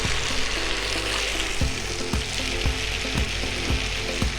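Potatoes fry in butter in a restaurant kitchen pan with a dense, constant sizzle. A low rhythmic clatter of the pan or utensil repeats roughly every half second, and no one speaks.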